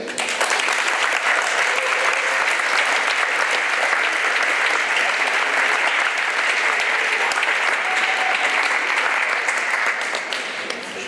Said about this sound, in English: get a warm round of applause for her